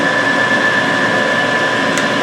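A lathe with a drill chuck in the tailstock drilling a small divot: a steady, loud motor whine with a constant high tone and even mechanical hum, unbroken throughout.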